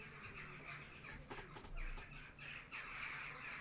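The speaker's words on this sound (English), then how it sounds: "I think you can hear the birds outside." Birds chirp and squawk outside an open window, faint repeated calls in short bursts over a steady indoor hum.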